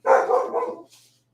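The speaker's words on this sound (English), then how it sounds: "That's the deaf dog, I'm sorry." A single dog barks once, close and fairly loud, a short, gruff woof trailing off into a brief softer tail.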